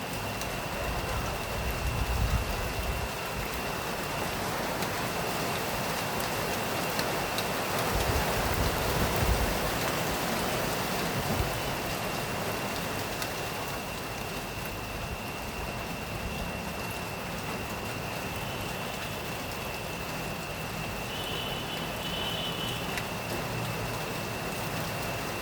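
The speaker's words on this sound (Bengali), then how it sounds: "বৃষ্টি পড়তেছে।" Steady heavy rain pouring down during a Kalbaishakhi nor'wester storm, a dense unbroken hiss that runs the full length with a faint constant tone in the background and no voices.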